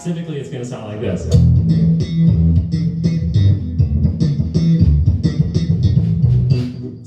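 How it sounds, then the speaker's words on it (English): Slap riff on a bass guitar, with punchy plucked and popped notes in a quick, syncopated rhythm, close and loud, played alone. "So you could put a bunch of work into your slap technique just to play this riff"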